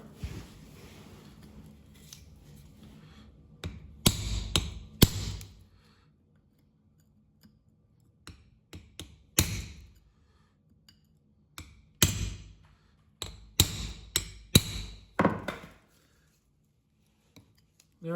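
A hammer strikes a flat screwdriver held against a Dana 30 differential carrier bearing from a Jeep TJ resting on a board. Sharp metallic blows come in irregular clusters separated by quiet pauses.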